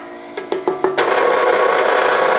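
An electric stand mixer switched back on at low speed to mix banana nut bread batter, with a few quick clicks and knocks before it settles into a steady close whir.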